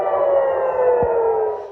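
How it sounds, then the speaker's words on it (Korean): An air raid siren wails in Jerusalem during a cluster munition attack, a loud, sustained steady tone that drifts slowly downward in pitch, heard alone before fading slightly at the end. "비슷한 시각 이스라엘 수도 예루살렘에서도 집속탄이 떨어져 방공 사이렌이 울렸습니다."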